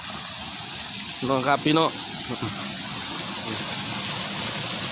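A waterfall at a cave hermitage gives a constant broad rushing hiss of falling water, and someone talks briefly over it.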